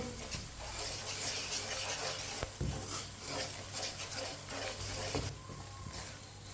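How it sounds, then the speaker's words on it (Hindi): Steady sizzling as spices fry over low heat, with scraping, stirring sounds of a spoon in a pan, continuous and close, with occasional clinks of metal. "मसालों को जलने नहीं देना, चम्मच चलाते हुए भूनने से"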